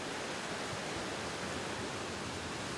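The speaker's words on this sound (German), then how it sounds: "wilde Bäche." A wild mountain stream in the Inn valley rushes steadily, a dense, even hiss of flowing water with no breaks and no voices.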